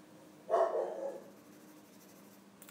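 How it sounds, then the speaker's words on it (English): A neighbor's dog barking at night outside, one muffled distant bark trailing into a short echo, then quiet room tone with faint scratching. "Got a neighbor dog active tonight, I guess. Probably barking at squirrels."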